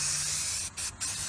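Spray-can primer hissing onto an old, cracked car wheel outdoors: a close, steady spray that briefly stops twice.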